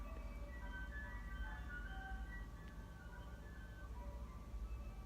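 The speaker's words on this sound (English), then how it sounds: "I believe that might be the ice cream truck person, which is really intriguing. Here it comes down the lane." An ice cream truck passes down a residential lane, its faint jingle tune drifting from a distance over a steady low rumble of traffic and outdoor ambience.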